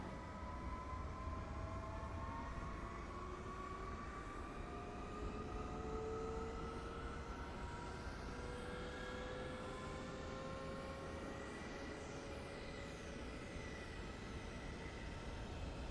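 Aircraft engines spooling up during start, heard as a faint, steady whine with slowly rising tones over a low rumbling background for the whole stretch, no voices.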